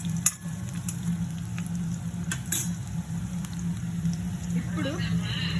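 Masala for chicken curry frying in a pan, a steady close sizzle with scraping stirring strokes and a few sharp clinks of the spoon.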